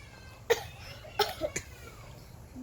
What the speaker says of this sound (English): The wolf adding a cough in the end to prove the point